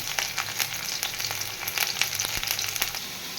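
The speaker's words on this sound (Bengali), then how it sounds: "দেখো বাদামটা ভাজা হয়ে গেছে এখন ফুলকপিটা ভাজছি" Cauliflower fries in a pan with a bright, crackling sizzle that holds steady throughout, broken by sharp pops.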